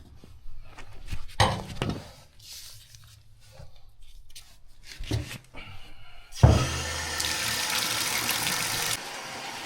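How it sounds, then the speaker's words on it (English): Tap water splashes into a drain during a toilet reset and drain inspection, with brief bursts and clatter first, then a strong steady gush for a few seconds that cuts off; no talk. "Let's go ahead and run some water down the drain."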